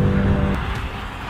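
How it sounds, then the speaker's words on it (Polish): An Audi RS3 five-cylinder engine pulls hard on a driving-experience track, a loud, close, steady rumble that shifts down in pitch midway as the car accelerates. "ależ te 5 cylindrów ładnie tutaj działają"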